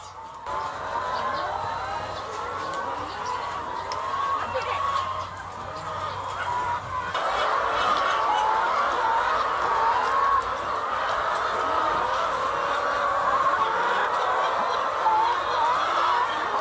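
Laying hens in a poultry coop cluck and murmur continuously, a dense flock chorus with scattered louder calls over a steady background hum.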